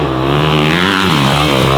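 A child's first big dirt bike revs loud and close, its engine whine climbing steadily. The pitch briefly dips and rises again as the rider shifts into third gear.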